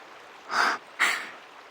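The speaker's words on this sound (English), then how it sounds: "She's still breathing." An unconscious woman breathes in the video game Reverse: 1999, two soft, airy breaths, close and alone, each about a quarter second long with a short pause between.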